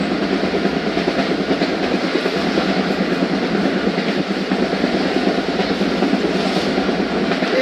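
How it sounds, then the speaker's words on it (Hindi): The 116dn Musapak Express passenger train runs at speed through the night in Pakistan, with a steady loud rumble and continuous clickety-clack of wheels over rail joints. "उकाड़ा से निकलकर ट्रेन पहुंच रही है यूसुफ वाला स्टेशन और उसके बाद साहिवाल स्टेशन आएगा।"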